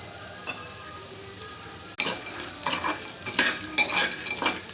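Peanuts and roasted gram dal scraped and stirred with a metal spatula in a hot pan for a coconut chutney, with a run of close, uneven clinks and scrapes and a faint sizzle beneath.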